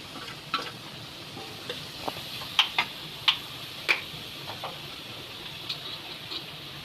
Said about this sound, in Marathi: टमाटर तेलामध्ये परतून घ्यायचंय.